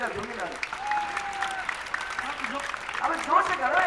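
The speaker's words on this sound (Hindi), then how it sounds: "अब आप जोर से ताली बजाइए" Crowd applauding at an outdoor political rally in Laxmangarh, Rajasthan, the clapping steady and building louder toward the end, with a voice speaking over it.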